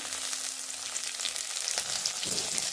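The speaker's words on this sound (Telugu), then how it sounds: "ఉల్లిగడ్డ పచ్చిమిర్చి వేసుకొని మంచిగా ఇలా వేయించుకున్నాం" Onions, green chillies and curry leaves sizzle steadily in a hot pan, a continuous close frying hiss with a few soft stirring scrapes and no voices.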